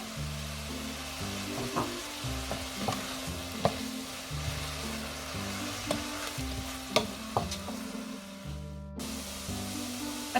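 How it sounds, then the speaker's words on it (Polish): Eggplant sizzles in a pot while being stirred, soft scraping and clinks over a steady frying hiss, moderately quiet and close. "Teraz bakłażan ląduje w garnku."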